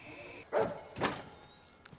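A dog barks twice in a film scene, medium distance and fairly quiet, in two separate yelps with a thin high tone hanging in the background.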